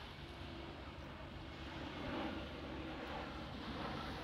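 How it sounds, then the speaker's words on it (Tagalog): Steady broadband roar of an airplane flying over a beach, loud and continuous throughout, swelling slightly midway, with no talking. "And then ayan ulit aeroplano."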